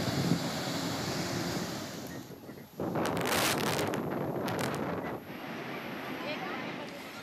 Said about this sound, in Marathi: सोमवारी संध्याकाळी किनारपट्टीच्या भागात वादळी वाऱ्याचा जोर वाढला आहे.